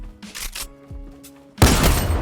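A tactical shotgun in Fortnite fires one loud, sharp blast up close, with a dense burst of noise that rings on after faint, scattered game sounds.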